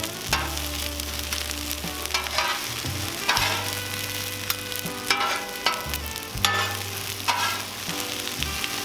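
Onions fry on a Cuisinart 360° griddle at medium heat, giving a steady loud sizzle broken by repeated scraping and stirring strokes of a spatula, with no talking.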